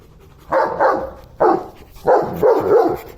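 A dog barks in short, close bursts, a couple of quick barks, a pause, then a longer run of yappy barks.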